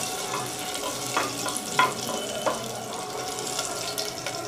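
Cashews sizzling in ghee in a pan for a jeera rice dish, a steady close frying hiss with occasional light stirring clinks and scrapes, no voices.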